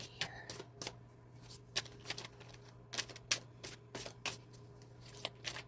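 Tarot cards shuffled by hand in a quiet room, a string of crisp riffling and slapping bursts, close and fairly soft, with no talking over them.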